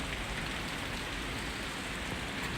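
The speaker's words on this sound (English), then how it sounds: "it is raining hard enough that a little stream is now appearing." Dense, steady heavy rain from a Boston thundershower pours down in a continuous wash of noise, with no voices or other sounds.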